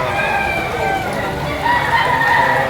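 A rooster crows at an outdoor chicken sale in Padre Garcia, Batangas, one of several loud calls rising over a steady hum of a busy market crowd while a seller keeps talking nearby.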